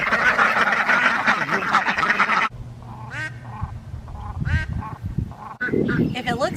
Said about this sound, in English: This is one of my ducks out here at my pond